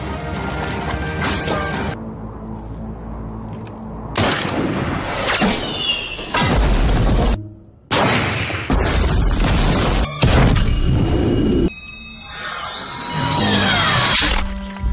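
Bomb blasts in a war film set on the Arabian Peninsula come as loud, close booms and crashes in repeated bursts, each abrupt and heavy with debris-like clatter, over a dense roaring din with brief drops between them.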